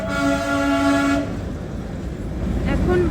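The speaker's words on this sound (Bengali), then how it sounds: "আমাদের ট্রেনটা মানে টয় ট্রেনটা একটু আগেই ছাড়লো।" The Darjeeling toy train gives a loud, sustained horn blast lasting about a second, then its running rumble and clatter carry on close by, with a short second toot near the end.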